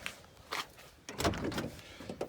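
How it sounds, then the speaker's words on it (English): Door of a 1988 Chevrolet K5 Blazer with some dents being worked, two close mechanical clunks and latch sounds, a lighter one first and a fuller one a moment later. "Door opens and closes good."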